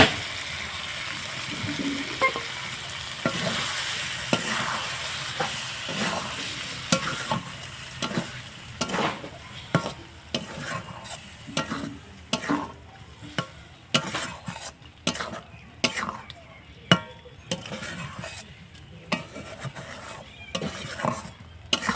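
Spinach paste being stirred into an egg gravy in a pan, with repeated scraping strokes of a spoon against the pan over a steady frying sizzle, close and fairly loud, no talking.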